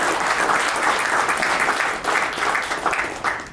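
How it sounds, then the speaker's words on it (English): Audience at a Philadelphia sports business leaders event applauding a former MLB pitcher: dense, sustained clapping from a sizable crowd, continuous and fairly loud throughout. "Let's hear it one more time for Jesse Biddle"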